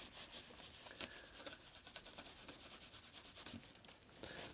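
Printed carbon contacts on a Commodore 128 keyboard circuit board are rubbed gently, making quiet, rhythmic scratchy strokes close by.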